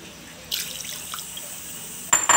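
Water is poured into a cooking pot for fish sinigang made with yellowfin tuna tail, a steady splashing pour starting abruptly and running for about two seconds, close, with a louder clatter at the end.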